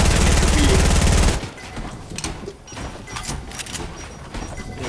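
Gunfire in a video game, a burst of rapid automatic shots that is loud at first and then gives way to scattered quieter shots and game noise.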